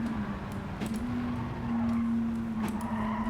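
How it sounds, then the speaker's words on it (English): Renault Avantime in Gran Turismo 7 with its front wheels spinning for traction in fourth gear, a steady engine drone with a high sustained whine running throughout, fairly loud and alone. "With this high, those front wheels are screaming"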